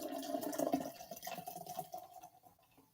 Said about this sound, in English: What are you pouring, Ray?